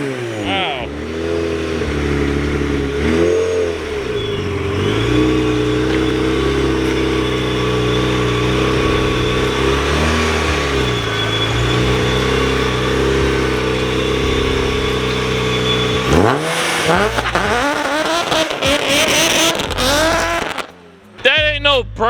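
A car engine revs hard in a burnout attempt, a steady loud drone with rising and falling pitch sweeps that climbs sharply near the end before cutting off, with voices talking over it.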